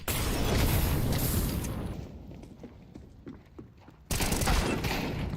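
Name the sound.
grenade thrown and exploding in video game The Finals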